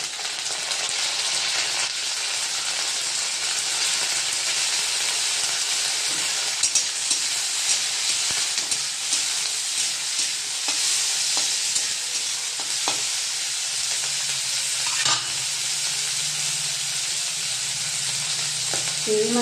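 Prawns frying in a pan with already-fried onions give a steady, close sizzle with light stirring scrapes throughout, and no voices.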